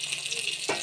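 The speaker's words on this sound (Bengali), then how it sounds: "একটু ভাজা হোক" Green cauliflower hits a hot pan with onion, green chilli and capsicum, giving a short, steady sizzle that swells briefly near the end.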